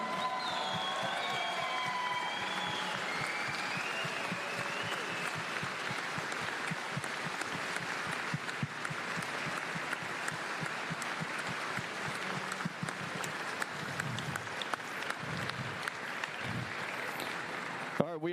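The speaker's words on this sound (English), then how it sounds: "please rise, get loud with applause" An audience rises for sustained applause at a 2021 event, dense even clapping with scattered cheers and crowd noise continuing for the whole stretch, with a few low thumps near the end.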